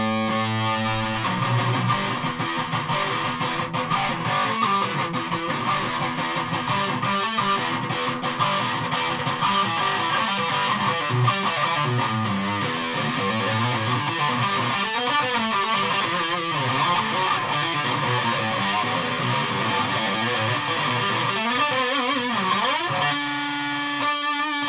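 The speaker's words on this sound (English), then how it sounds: "it really just is distortion" A Schecter Solo-6 Hellraiser electric guitar runs through a distortion pedal, playing continuous thick, buzzing chords and riffs at a steady loud level throughout.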